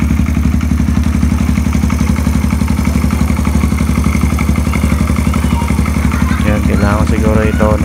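A Suzuki GD110 motorcycle engine, fitted with a Nibbi 24mm carburetor and mushroom air filter, idles loudly and steadily up close with a rhythmic mechanical chug, and a voice briefly speaks near the end.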